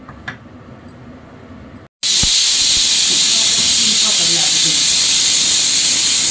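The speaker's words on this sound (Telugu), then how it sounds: "మళ్ళీ మూత పెట్టుకుని 2 విజిల్స్ వచ్చాక కట్టేయాలి." A pressure cooker holding mutton curry with raw cashews and drumsticks suddenly bursts into a loud, sustained steam hiss through its whistle after a quieter stretch of kitchen sounds.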